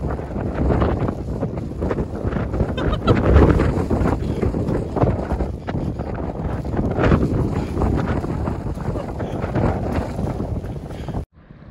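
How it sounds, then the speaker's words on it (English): Steady, loud wind roars and buffets the microphone outdoors in Iceland, a continuous rumbling rush that holds for about eleven seconds before cutting off abruptly. "We didn't die. We found the wind."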